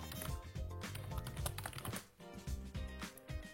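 Rapid typing on a computer keyboard, dense clattering keystrokes close up and fairly loud, with a brief pause midway before the tapping resumes.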